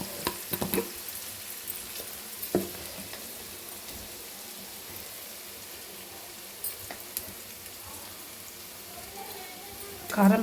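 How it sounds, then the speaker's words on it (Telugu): Onions fry in a pan for egg burji, producing a steady soft sizzle with occasional stirring clinks and scrapes, fairly quiet and continuous. "ఆనియన్స్ ఫ్రై అయినాయేమో చూద్దాం ఒకసారి"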